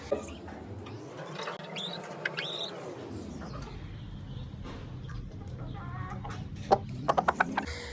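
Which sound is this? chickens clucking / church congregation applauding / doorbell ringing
chickens clucking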